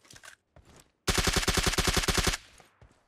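An AK rifle firing in PUBG Mobile: a loud, close, rapid automatic burst of about a dozen evenly spaced shots lasting just over a second, with a few fainter shots and sounds before and after.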